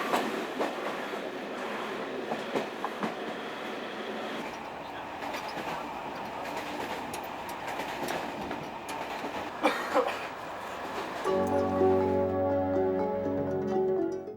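A night train runs from Tartus toward Damascus with a steady, distant rumble and clickety-clack of the rail cars. A louder tonal rolling sound comes in near the end, and a faint cough is audible.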